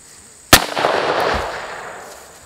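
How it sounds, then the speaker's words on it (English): A single sharp .357 gunshot fired at tires cracks loudly and close, followed by a long decaying outdoor echo that fades over about two seconds. "So I'm going to shoot it another round, and hopefully this will be a little bit better aligned."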